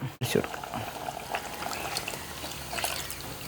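A coconut milk curry with mango and prawns bubbles as it comes to a boil, a steady low simmering hiss with soft popping, close up, after a brief thump at the start.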